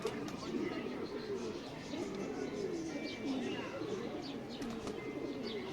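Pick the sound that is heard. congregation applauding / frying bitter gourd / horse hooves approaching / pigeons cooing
pigeons cooing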